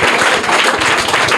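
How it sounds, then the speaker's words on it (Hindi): Children in a school classroom clap loudly and steadily in a dense, continuous burst of applause, close and bright, lasting a moment after a quiz question is answered. "तालियां जोरदार"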